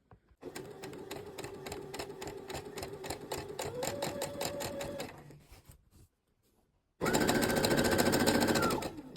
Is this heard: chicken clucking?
no